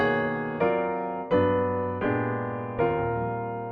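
Four rolled piano chords sound in sequence, each rich and ringing, with slight spreading at the attacks as notes enter; played alone with no voices.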